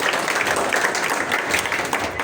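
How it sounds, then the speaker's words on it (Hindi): Steady audience applause at an ustad ceremony, a dense wash of many hands clapping at even loudness throughout. "जी तालियां 200 होनी चाहिए।"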